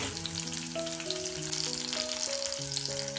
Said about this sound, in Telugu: ఇవన్నీ బాగా ఫ్రై చేసుకోవాలండి, పచ్చివాసన పోయేంత వరకు